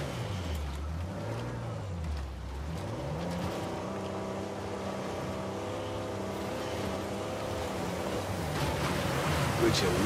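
Water pours down a waterfall near a cave in Uncharted 4, making a broad steady rush beneath low droning game music, with the roar swelling louder toward the end.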